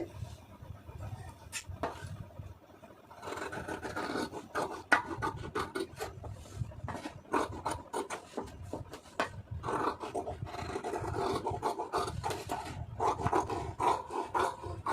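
Scissors cut through blouse fabric close by in a run of rough, rasping snips and rubbing strokes, with short pauses between cuts.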